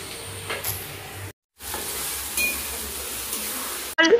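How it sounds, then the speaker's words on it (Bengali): Ginger deep roasting in a hot pan in a home kitchen, a steady broadband sizzle and hiss that continues nearly throughout, briefly dropping out in the middle, with faint clatter near the end. "এখানে আদাটা ডিপ রোস্ট করতে"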